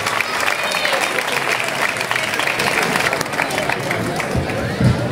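Audience applause and cheering at a casting event for La Cucafera's princess and knight, a dense, steady wash of clapping with crowd noise that runs throughout.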